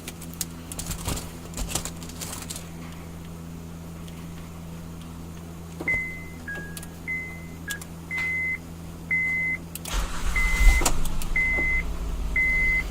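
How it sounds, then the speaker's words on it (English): A 2009–2015 Honda Pilot with a plug-in remote starter: a series of clipped lock clunks and several short repeated electronic chirps, then the engine cranks and catches near the end, in a quiet setting. "This will trigger remote starting of the vehicle."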